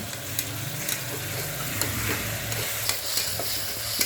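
Onions sautéing and softening in a pan for a wedding-style fish curry, a continuous close sizzle with occasional stirring scrapes and clicks, steady and moderately loud throughout.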